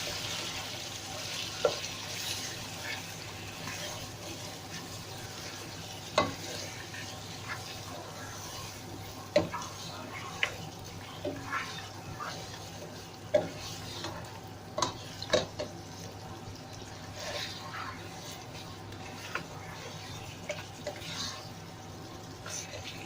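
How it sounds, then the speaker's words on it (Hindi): Ginger garlic paste frying in a karahi for lamb karahi, a soft, fairly quiet sizzle broken by sharp intermittent taps and clinks of a spoon against the pan. "इसके साथ हम इसको थोड़ा फ्राई करेंगे।"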